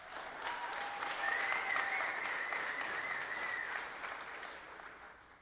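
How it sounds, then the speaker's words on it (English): A banquet audience claps steadily for a retiring officer, a continuous, even wash of many hands that holds for several seconds before tapering off, with a faint voice over it. "we'll give each one an individual round of applause"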